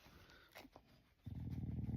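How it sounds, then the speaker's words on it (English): A pet dog makes a low, brief grumbling growl with some panting and restless noise nearby, fairly quiet and close, with no speech. "Don't growl at Ted"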